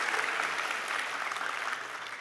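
Luncheon audience at a law and society honoree event applauding, a brief, even burst of many hands clapping that carries steadily across the moment without talk.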